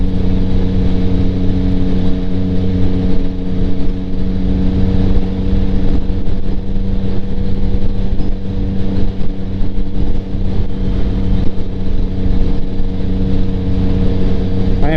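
Yamaha MT09 motorcycle with a Kelpi Flanker exhaust cruising steadily, a loud, continuous engine drone with a buzzy exhaust note and wind rush throughout, no talk heard.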